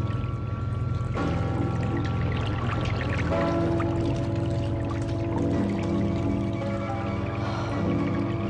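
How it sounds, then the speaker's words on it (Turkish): Shower water running steadily in a 1970s film scene, a soft continuous pouring stream with low hum and faint background tones, no talk. "Bir duş alıp hemen gelirim yanınıza."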